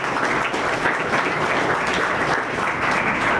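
Sustained applause from a crowd at a tobacco-prohibition awareness gathering in Bhopal, a full, even roar of clapping that stays loud for the whole stretch with little talk.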